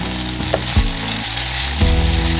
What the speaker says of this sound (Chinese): 加入香菇炒香，再加入肉丝炒到变色，接着加入虾干拌炒一下